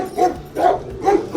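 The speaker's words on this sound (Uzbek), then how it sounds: "Mana itlar." Dogs on a farm in Poland give three barks in steady succession, each rising out of quieter gaps, close and moderately loud.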